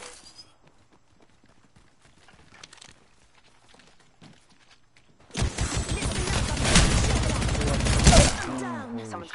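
Gunfire in the Apex Legends video game starts after a quiet stretch of faint game sounds and becomes a loud, dense run of rapid shots lasting several seconds, with voices talking nearby.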